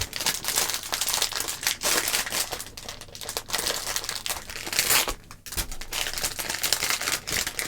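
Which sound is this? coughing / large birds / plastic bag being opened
plastic bag being opened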